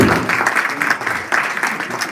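Audience clapping for a speaker at a convention talk show, a steady wash of many hands throughout, fairly close and continuous.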